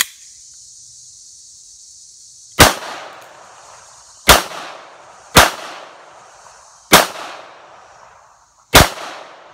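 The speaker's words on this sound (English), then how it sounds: "Today we're shooting the Russian Makarov." Five sharp gunshots from a Russian Makarov 9x18 pistol fired outdoors at clay targets and bottles, spaced a second or two apart, each a loud crack with a short decaying echo.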